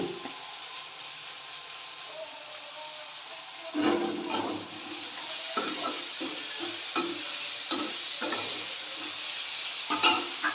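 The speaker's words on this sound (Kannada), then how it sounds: "ಕಲರ್ ಚೇಂಜ್ ಆಗೋಗಂತ ಫ್ರೈ ಮಾಡ್ಕೋಬೇಕು" Bitter gourd fries in a pan with a soft, steady sizzle, broken by several clattering stirs and scrapes of a spoon that come and go close by.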